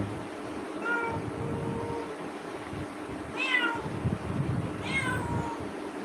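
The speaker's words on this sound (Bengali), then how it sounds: "আসলে বিড়ালে খেলা করতেছিল" A playful cat meows several times, with three drawn-out, rising calls spaced a couple of seconds apart over a soft room background, fairly close and with no talking.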